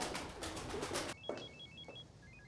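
A telephone rings with a repeating electronic trill, fairly faint and close, right after a burst of louder noise cuts off; no one speaks over it.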